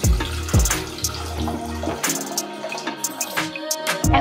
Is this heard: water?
yes